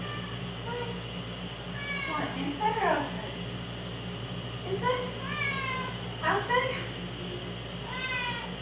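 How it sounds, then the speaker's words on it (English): A one-year-old Persian cat meows repeatedly indoors at home, several drawn-out cries spread across the moment, close by and moderately loud, while a person talks to it between the calls over a steady low household hum. "1 year old Persian cat"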